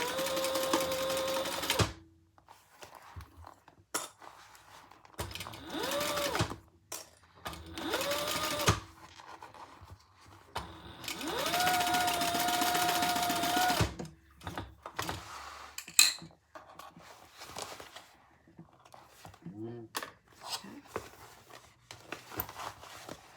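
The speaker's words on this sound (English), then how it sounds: "And sew that together." Sewing machine stitching a seam on a crossbody bag in several separate bursts, some short and one long run of about four seconds, with quiet handling noises in the pauses.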